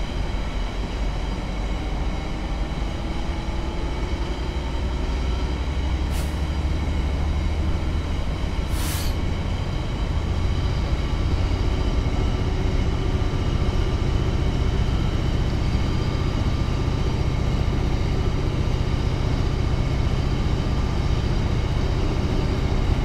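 A Class 66 diesel locomotive runs at full power on a UK freight run from Ravenstruther to Mossend in Train Simulator 2015. The loud, steady engine drone and rolling hum never let up, broken only by two brief sharp clicks early on.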